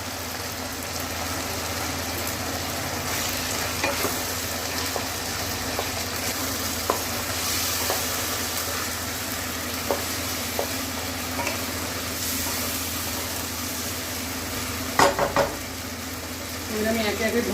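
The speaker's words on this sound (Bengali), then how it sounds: "মটনটা একটু ভাজা হয়ে গেছে। এবার দিলাম পেঁয়াজ বাটা" Mutton frying with onion paste in a pan gives a steady close sizzle, with occasional clicks and scrapes of stirring and a low background hum throughout.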